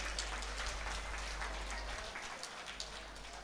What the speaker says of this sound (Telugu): సో ఒక్కసారి వారిని గట్టిగా చప్పట్లు కొడదామండి